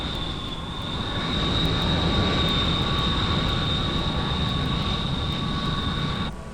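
An Air India jet airliner taxis at Idlewild airport in 1961, its engines giving a loud, steady high-pitched whine over a broad rumbling roar that cuts off abruptly near the end.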